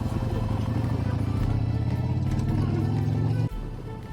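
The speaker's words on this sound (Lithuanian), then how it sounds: "Idėja pasivažinėti motociklu po centrą buvo ne pati geriausia. Dauguma gatvių grįstos akmenukais" A motorcycle rides over the cobblestone streets of central Odesa, its engine droning loudly with a rough, juddering rumble before the tone drops off abruptly near the end.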